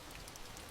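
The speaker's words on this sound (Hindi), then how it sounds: "बहुत तेज बारिश हो रही है" Heavy rain pours in a steady, dense hiss with no breaks, fairly quiet and alone, without any voices over it.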